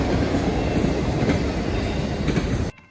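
An Amtrak train hauled by Charger locomotives rumbles past at Folkston, Georgia with loud steady wheel and rail noise, cutting off abruptly near the end.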